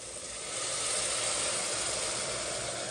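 Water poured into a hot pan of cooking mutton gives a steady, close hissing sizzle that swells and holds for a few seconds with no talk.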